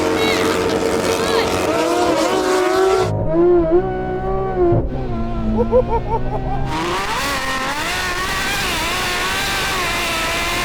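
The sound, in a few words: car launching in video game Driving Empire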